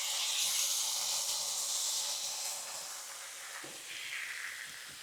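Bacon smash burgers sizzle on a hot Blackstone griddle, a steady loud hiss with spattering crackle that eases slightly midway, with no talk over it.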